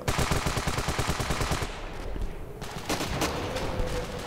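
Rapid rifle gunfire in the video game Ravenfield, a loud sustained automatic burst that briefly pauses before more sharp shots crack out.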